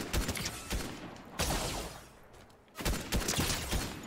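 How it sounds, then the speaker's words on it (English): Rapid bursts of gunfire aimed at the player in a Fortnite match, loud and dense, with sustained volleys broken by a brief lull before the shooting resumes. "There's someone shooting me somewhere."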